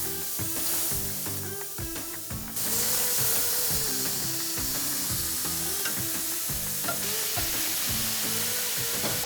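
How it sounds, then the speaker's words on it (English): Shrimp sautéing in olive oil, a loud close sizzle with intermittent spatula scrapes and rattling, jumping to a brighter, hissier fry after a couple of seconds and holding steady; no speech. "I'm just gonna go ahead and saute off our shrimp"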